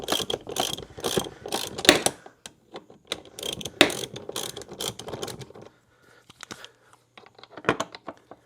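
A ratchet turning through long extensions works loose a fork bottom bolt on a 2017 Kawasaki KX450F air fork, giving dense bursts of close, rapid clicking that thin out into a few scattered clicks and quiet gaps near the end.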